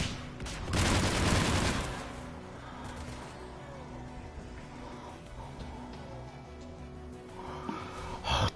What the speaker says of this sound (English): Quit it with that rocket launcher.